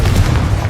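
A short, loud, low booming blast from the Confringo fire spell in the video game Hogwarts Legacy, a single explosive burst.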